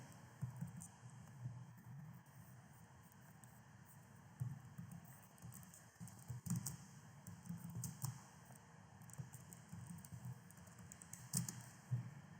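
Typing on a computer keyboard, a faint, quiet run of uneven key taps in short bursts with small pauses, close by in a very still room.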